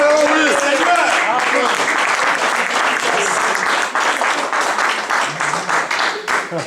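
Church congregation breaking into sustained applause and cheering for the Lord during an evangelical service, a dense wash of clapping with voices shouting over it throughout.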